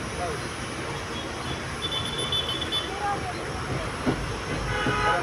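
An amusement park ride train rolls along on its track, a steady rumble with faint clattering and occasional squeaks, with a voice talking over it throughout.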